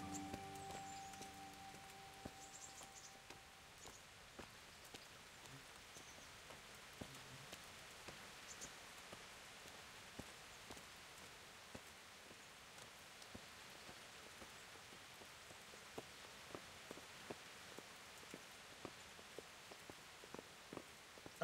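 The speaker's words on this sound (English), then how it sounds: "I wonder when it will stop raining." Steady rain in the video game Kingdom Come: Deliverance patters softly throughout, with scattered sharper drops ticking close by and no talking.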